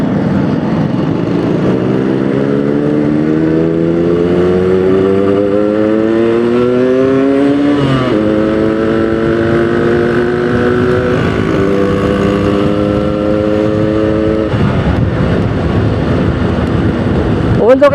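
A Yamaha RX-King two-stroke motorcycle engine, unported and fully original, runs steadily and loudly, its pitch climbing as it accelerates through the gears, with a brief drop and rev near the end.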